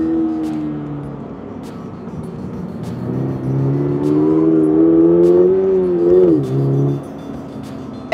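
A Subaru BRZ tS engine pulls steadily through a corner, its hum rising in pitch as it accelerates and then dropping back near the end. Faint ticks and road noise sit underneath.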